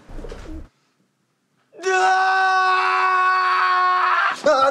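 A drawn-out, loud, wavering cry resembling a pigeon's coo follows a brief burst of voice and a silent pause, ending abruptly.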